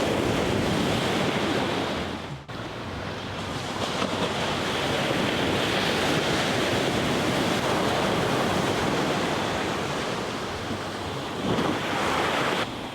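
Big winter waves crash on the North Shore of Oahu in a loud, continuous roar of surf and wash, with a brief lull after about two seconds, close by and with no talking.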